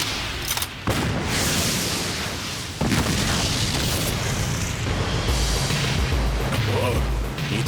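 A powerful explosion in the anime Ghost Slayers Ayashi, set off to blow out a fire: loud booming blasts with sharp bursts roll through a dense, roaring wash of noise, with voices briefly heard over it.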